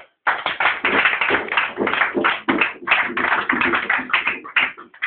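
Congregation clapping together during a French-speaking church worship service: dense, steady clapping that runs without a break for about five seconds, loud and close, with no talking over it.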